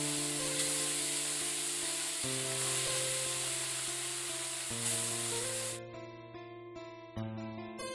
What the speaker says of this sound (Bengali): উচ্ছেগুলোকে শুধু একটু ভাজা করছি লবণ হলুদ দিয়ে